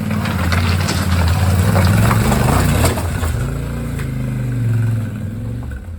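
Yamaha Tenere 700 motorcycle engine droning steadily while riding, loud and close with a low rumble and wind noise, rising slightly in pitch partway through before easing off; no speech.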